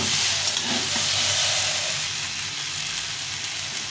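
Thinly sliced tomatoes frying in a pan, a loud continuous sizzle and hiss that holds steady throughout with no one talking.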